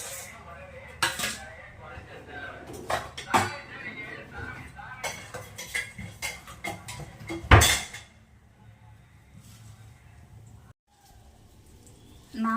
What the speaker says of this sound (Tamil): இப்போ மசாலா ரெடி பண்ணிவிட்டு லெமன் ரைஸ் மிக்ஸ் பண்ணுவோம்